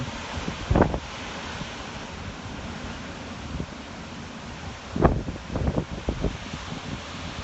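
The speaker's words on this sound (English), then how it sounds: "We still have pretty strong wind, but it's not as strong as it was maybe 90 minutes ago." Strong wind from Hurricane Maria sweeping over Martinique, a steady broadband roar with heavier gusts buffeting the microphone near one second and again around five to six seconds.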